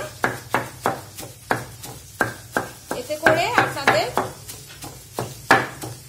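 Ingredients for pabda fish oil paturi are crushed on a shil-pata grinding stone in a steady series of sharp, close thumps, with someone speaking briefly in the middle.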